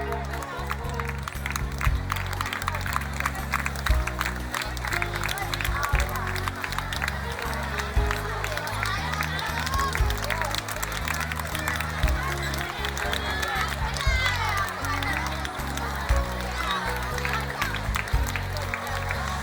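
Audience at a girls' high school annual function prize-giving clapping continuously, a dense, steady patter of applause with crowd murmur and a voice speaking over it throughout.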